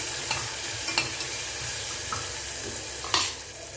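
Sliced onions frying in a pot for tomato rice made with tender coconut water, a steady sizzle broken by a few sharp scraping stirs of a spoon against the pot, close and alone.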